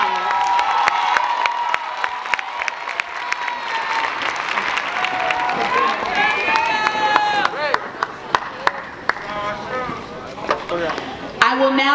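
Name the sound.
applause and cheering for graduating scholars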